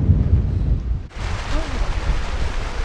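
Loud wind roars and buffets the microphone, briefly dipping before surging back stronger, a close and rough rushing noise.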